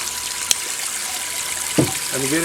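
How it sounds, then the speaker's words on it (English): Water sprays from angled rear spray bars and flows down a backyard recirculating gold sluice over riffles, a steady soft wash with a brief click and a short burst of voice-like sound near the end. "the rear spray bars at an angle which provides the best flow and most continuous flow down the sluice"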